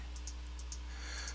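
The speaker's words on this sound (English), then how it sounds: "I don't know if you can hear in the background, but I am clicking on it" A computer mouse clicks during a server denial-of-service demo, about eight faint sharp clicks spaced irregularly over a steady low electrical hum, with no talking.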